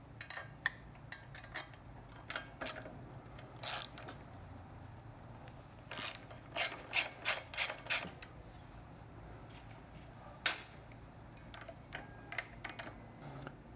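A 12mm wrench works on the exhaust of a Triumph Street Twin motorcycle, giving quiet, close clicks and creaks in scattered bursts, with a quick run of rhythmic ratchet ticks near the middle.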